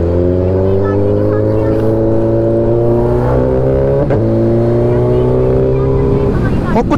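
A car pulls away on a highway, its engine a loud, steady hum with pitch slowly climbing through gear changes and a brief shift dip midway, heard close throughout as people talk.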